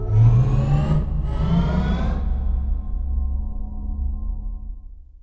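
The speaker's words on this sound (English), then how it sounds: "However, here is the engine." A car engine in a racing video game revs hard with rising harmonics for about two seconds, then settles into a steady, loud idle hum that slowly fades.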